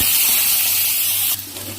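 Prawns hit hot oil seasoned with panch phoron in a kadai and set off a loud, steady sizzling hiss that drops a little in strength near the end, with no one talking.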